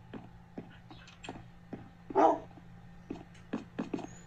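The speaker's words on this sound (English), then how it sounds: "I hope you don't attack my dogs" Dogs in the Minecraft video game bark in short, scattered yips spread across a few seconds, with one louder whimpering bark in the middle, over a low steady game hum.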